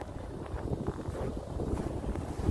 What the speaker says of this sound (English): That wind can't decide which way it wants to go.